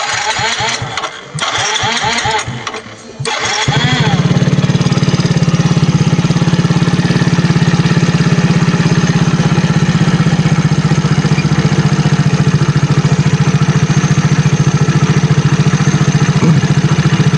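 A Yamaha Mio Soul GT scooter engine cranks in a few short bursts, catches and settles into a loud, steady close idle that runs on to the end without a break.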